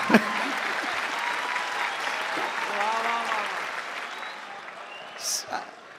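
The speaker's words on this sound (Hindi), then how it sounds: "ताली बजा दो" An audience claps in a sustained round of applause after a joke at a live stage performance in Dubai, fairly close and steady, with a voice briefly audible near the end.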